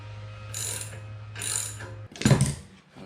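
Torque wrench ratcheting on a GenY gooseneck hitch fitted with a Brinkley, two short bursts of clicks followed by a heavier, louder clunking ratchet pass near the end, close and clear without talk.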